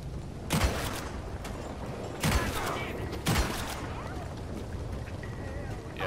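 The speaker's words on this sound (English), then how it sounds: "I haven't used the volcanic pistol since the beta days, and I forgot how good they are. I just like the sound of it." Volcanic pistol gunfire in the Red Dead Redemption 2 video game: three sharp, loud shots spaced irregularly over a few seconds, each with a short echoing tail, against a steady ambient game background.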